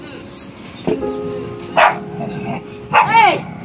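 A dog barks and yips a few times in short bursts, one bark rising into a whiny yelp, while people talk nearby.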